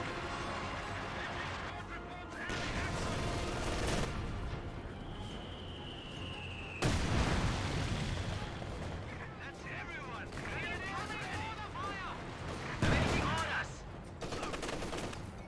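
Battle sounds from Company of Heroes 2, with a German MG-42 machine gun and other gunfire cracking in bursts over a continuous wartime din. Several sharp loud impacts stand out, and a voice can be heard underneath.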